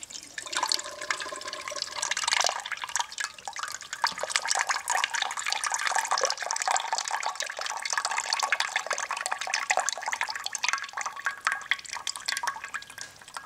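Liquid from a worm composter being drained from its tap into a container, a continuous close trickle and splash of flowing liquid with small drips.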